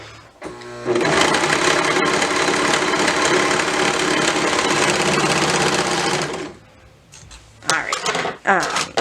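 Serger overlock machine stitching clear elastic into fabric runs in a loud, steady whirring burst for about six seconds, then stops, followed by a few clicks and handling noises while a person talks briefly.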